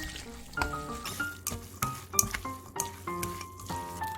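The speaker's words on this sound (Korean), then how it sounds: "야채와 면이 잘 섞이도록 젓가락을 이용했어요." Japchae glass noodles and vegetables stir-fried with chopsticks in a hot pan, a continuous sizzle with repeated clacks and scrapes, while a tonal chime-like melody plays over it.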